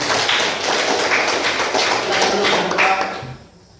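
Classroom applause from students for group 2, a dense patter of many hands clapping steadily for a few seconds before dying away.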